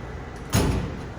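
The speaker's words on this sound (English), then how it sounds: "You're going to pull the door down." A kitchen appliance door in a baking kitchen is pulled down, giving a single short, fairly close thud with a brief rattle that fades under a steady room hum.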